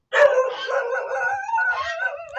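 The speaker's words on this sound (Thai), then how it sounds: "มีแต่สุนัข" Dogs in a rural Thai village bark and howl in one drawn-out, wavering chorus that is fairly close and loud, running without a break and with no talking.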